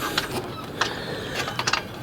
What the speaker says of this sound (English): it's not a massive ratchet I'm using